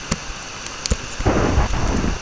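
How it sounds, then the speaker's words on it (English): Thunder and rain in a video game: a few sharp cracks give way to a rolling rumble under a steady hiss of rainfall, loud and close. "And there goes the lightning again."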